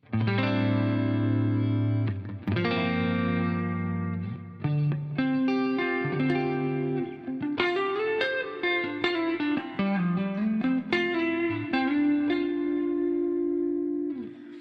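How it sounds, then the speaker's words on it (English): Clean electric guitar through an amp with no boost pedal, a drum cab sim in the chain, playing sustained chords and then picked single notes, close and steady with light reverb, no talking. "the amp is going to be a clean tone with no boost"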